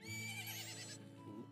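A horse in The Legend of Zelda: Majora's Mask HD whinnies in a long, wavering, high-pitched call that drops away at the end, heard clearly on its own.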